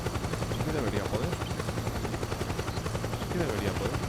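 Helicopter in the video game Metal Gear Solid 4, a steady loud rotor drone running throughout with dense rumbling noise and possible gunfire mixed in.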